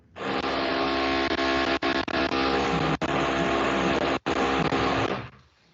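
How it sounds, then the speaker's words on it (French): An electric drill whines loud and close at a constant speed for several seconds, with a few brief cut-outs before spinning down. "on entend bien la perceuse"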